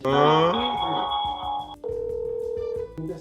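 A telephone call connecting over a speakerphone during an indoor talk-show recording: tonal, voice-like sounds first, then a steady, even ringback tone that holds for about a second before cutting off.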